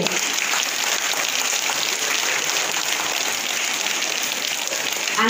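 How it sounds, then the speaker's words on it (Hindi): Loud, steady applause from a school audience of parents and students at an Independence Day function in Rajasthan, a dense continuous patter of many hands with no break. "सभी अपने माता पिता के लिए जोर से ताली बजाएंगे"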